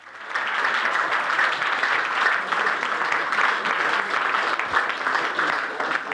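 A TV quiz show studio audience from 1994 breaks into steady, dense applause, the clapping rising quickly and holding loud and even for several seconds without a break.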